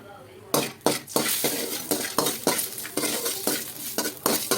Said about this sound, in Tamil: நெய் ஊற்றி முந்திரி பருப்பு போடுவோம்